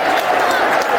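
Loud, dense roar of a football crowd at the Den, Millwall, a sustained wash of cheering and noise filling the whole moment with no clear breaks.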